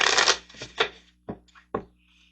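A deck of tarot cards is shuffled in a quick riffle, followed by a few separate soft slaps and taps as cards are drawn and placed down, close and clear with no talking.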